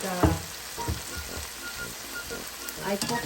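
A chicken omelet with vegetables and chives sizzles and fries in a pan while being stirred, with scraping utensil strokes at irregular intervals over a steady close frying hiss.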